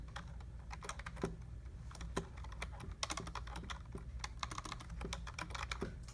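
Fingers type on a computer keyboard, producing a fast, irregular patter of close, crisp key clicks with no talking.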